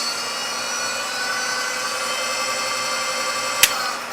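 A cargo e-bike motor in eco mode with soft start spins up into a steady high-pitched electric whine, close and constant, with a brief sharp click near the end.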